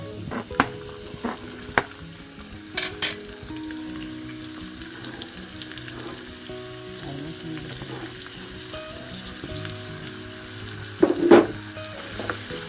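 Garlic and onion frying in a hot pan make a continuous sizzle, broken by occasional clatters and scrapes of a utensil, with a louder burst of clanking near the end and no talking.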